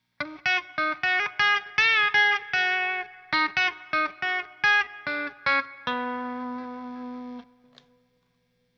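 An electric guitar played through an effects pedal, choppy plucked notes and chords in a steady rhythm, ending on a ringing sustained chord that decays to silence.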